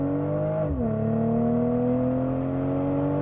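A 2023 BMW M440i engine after a manual downshift, a loud steady engine drone with a sharp pitch dip as the gear changes, then holding a sustained rev, close and alone.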